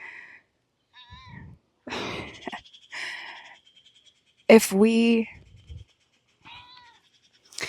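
A cat meows loudly once, close by, amid intermittent speech and quiet gaps between voices.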